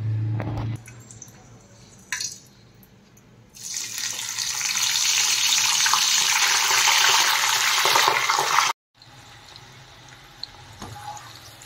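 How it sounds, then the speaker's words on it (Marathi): Wet dried peas hit hot oil for a crisp namkeen snack, and a loud, continuous hissing sizzle swells up and holds for several seconds before cutting off sharply, with softer clatter and rustling before and after. "त्यामध्ये आपण आता वटाणे सोडून फ्राय करायचं आहे।"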